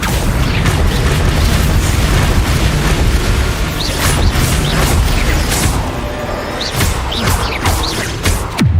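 Spell blasts in the Hogwarts Legacy video game, Confringo and Bombarda among them, boom and burst again and again over a dense, noisy battle bed, loud and continuous, with no voices.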